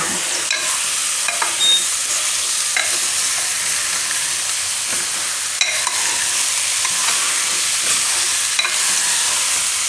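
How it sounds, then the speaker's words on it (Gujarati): Potatoes and eggplant being stirred into a frying fenugreek and pigeon pea curry, a steady close sizzle with repeated scraping stirs of a spoon through the pan. "તો આમાં આપણે હવે બટેટા અને રીંગણા નાખી દેવું અને મિક્સ કરી દેવું"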